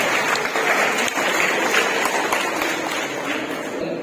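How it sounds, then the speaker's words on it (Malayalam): An audience at a Christmas Eve gathering in St Joseph's Church, Karukunnu, applauds in a dense, continuous burst. A faint voice sits under the clapping, which holds steady before easing slightly at the end. "ഒന്ന് കൈയടിച്ച് നന്നായിട്ട് കൈയടിച്ചോ"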